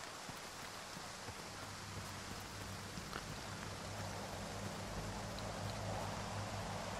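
Steady rain falls across an open area in the video game Stalker 2, a constant hiss of rainfall with no voices over it.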